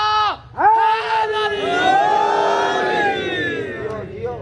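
A crowd at a religious gathering in Kotli Ali Ahmed chants religious slogans together in loud, sustained unison. A brief dip comes early, then the massed voices swell and hold steady to the end.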